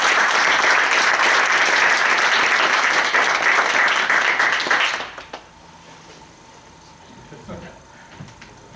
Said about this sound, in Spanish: pido un fuerte aplauso para ambos